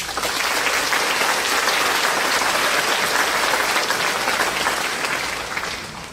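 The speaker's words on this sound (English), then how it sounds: "Let's give them a round of applause, please." A large crowd at a high school graduation ceremony applauds in sustained, even clapping that fades slightly at the end.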